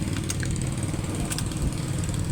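A Yamaha NMAX V3 scooter engine idles steadily on its first run after a top overhaul done to fix oil leaking into the air filter. The close, even mechanical drone continues unbroken with no voices.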